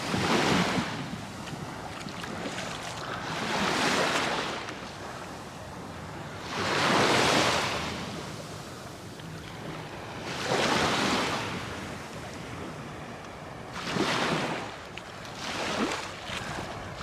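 Sea waves wash in on a busy summer beach at Palmanova, Mallorca, each swell building and then breaking about every three to four seconds in a steady rhythm under light wind.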